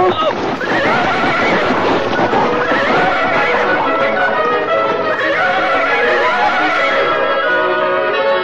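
Horse riding down a cliff, with loud whinnies and neighs over continuous hoofbeats and rushing motion noise in a radio drama, mixed dense and close.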